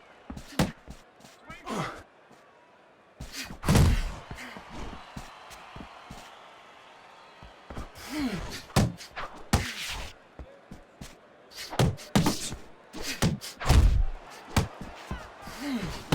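Boxing punches from the Fight Night Champion video game land in irregular bursts of sharp thuds and slaps, some in quick combinations, with a commentator talking between the blows.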